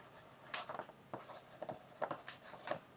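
Pen or marker strokes on a surface while a maths method is written out by hand, quiet scratchy bursts in an irregular rhythm with short pauses, close and faint, no talking.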